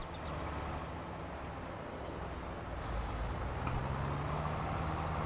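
A tractor engine in Farming Simulator 22 drones steadily at low volume, a heavy diesel rumble that swells slightly toward the end, with no talk over it.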